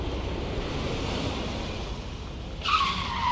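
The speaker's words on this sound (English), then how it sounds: "And nearly get run over by a car." A car in the video game Fears to Fathom skids past on a road, a long rushing whoosh that swells near the end with a sharp tire squeal.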